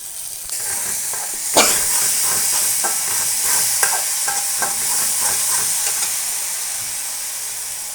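Salt, turmeric and lemon leaves cooking in a boiling pot, giving a steady close hiss and bubbling with a few sharp utensil knocks early on, no voices.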